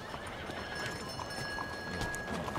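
A horse's hooves clip-clop in Red Dead Redemption 2, and the horse whinnies once. The sounds are fairly quiet and set over a soft game ambience with faint steady tones.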